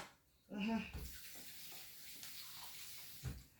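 Metal grater rinsed under a running kitchen tap while cooking coconut pumpkin dumplings, a brief splashing rush of water with someone talking over it.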